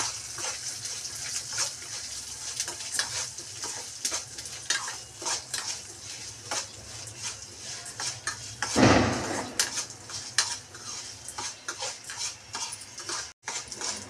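Mustard and cumin seeds frying in oil while being stirred, a low crackling sizzle under repeated light spoon taps and scrapes against the pan, with one louder rushing scrape midway, close and quiet.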